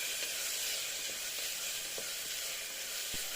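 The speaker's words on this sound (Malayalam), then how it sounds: "ഈ 2 പേസ്റ്റുകളും ചേർത്ത് കൊടുത്ത് ഇതൊന്ന് വഴറ്റിയെടുക്കാം" Garlic and ginger paste sizzles steadily in a hot pan for a vegetable kurma, a constant close hiss with a few faint clicks of stirring and no talk.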